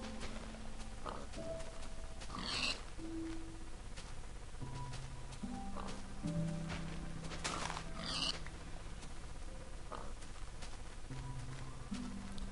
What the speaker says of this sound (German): Und hier haben wir noch jede Menge Schweine.